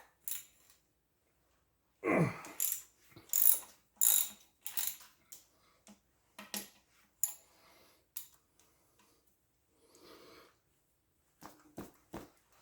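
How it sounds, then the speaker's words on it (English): A 9/16 wrench ratchets bolts on a Pontiac 400 engine held on a stand. It gives short, close bursts of metallic clicks separated by pauses, and there is no talk. "now I need my 9/16 for these two oddball bolts"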